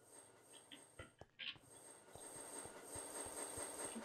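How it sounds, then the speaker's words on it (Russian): A metro train pulls into a station, its wheels clacking in a steady rhythm over the rails and a thin high squeal running underneath as the rumble grows closer and louder. "А вот и наш поезд."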